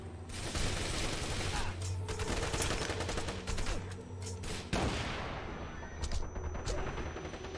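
Rapid gunfire from the Wanted: Dead video game, sustained bursts of shots and booms filling a loud firefight, with a voice talking over the shooting.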